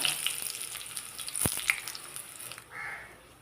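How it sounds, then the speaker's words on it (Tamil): Hot coconut oil crackles and sizzles with scattered tiny pops as mustard seeds splutter, one sharp tap of a utensil, then the spitting settles to a quieter hiss. "தேங்காய் எண்ணெய் ஊற்றியிருக்கேன் கடுகு அரை டீஸ்பூன் கடுகு பொரியட்டும்"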